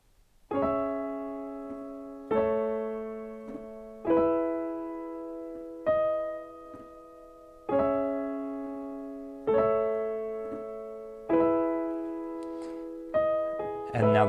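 Solo piano plays a song intro: sustained chords struck one at a time at a slow, even pace, each ringing out and fading before the next, quiet and close.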